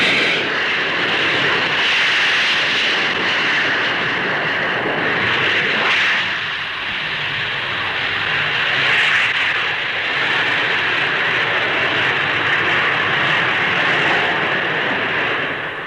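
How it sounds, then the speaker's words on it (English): A de Havilland Comet airliner with four Rolls-Royce Avon jet engines takes off at the Farnborough air show in the 1950s, a loud, steady roar of jet thrust swelling slightly over sixteen seconds, with no voices. "Powered by 4 Rolls-Royce Avon jets, its takeoff run is exceptionally short."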